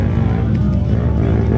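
Racers' motorcycles, including Yamaha R15 sport bikes, roll in at an outdoor stunt gathering on a 300-foot road, engines droning loud and steady throughout with a low rumble.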